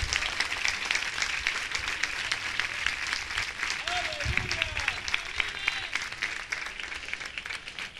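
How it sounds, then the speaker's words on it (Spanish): A church congregation claps along steadily through a Spanish-language evangelical sermon, dense rhythmic hand-clapping filling the space, with a voice briefly heard over it. "Dele palmas a Dios."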